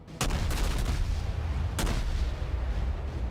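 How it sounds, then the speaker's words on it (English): Two heavy booming warship gun salvos in World of Warships, one at the start and another a second and a half later, each followed by a long rumbling roar. "And get some gunfire off at him."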